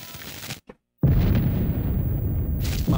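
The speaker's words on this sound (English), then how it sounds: "How many green light nukes did he detonate?" Nuclear bomb detonations in Call of Duty: Black Ops Cold War land as a huge, deep, roaring explosion after a moment of near silence, a rumbling blast that sustains loudly for about two seconds before a fresh surge at the end.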